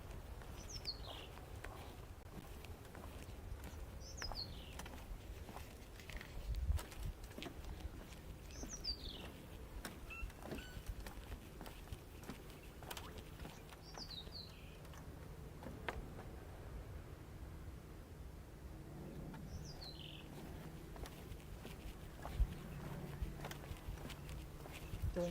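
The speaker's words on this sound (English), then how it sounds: "Hearing beautiful bird calls." Birds calling along a beach boardwalk: several short, faint chirps spaced out over steady outdoor background noise, with soft footsteps and no talk.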